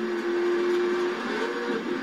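Car engine in Forza Horizon 4 holds a loud, sustained high rev with a steady droning tone that wavers slightly, close and continuous throughout.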